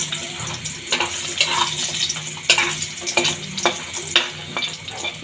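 Lentil dumplings (dal bori) fry in hot oil, sizzling steadily with repeated sharp clinks and scrapes of stirring, close and fairly loud, with no talking.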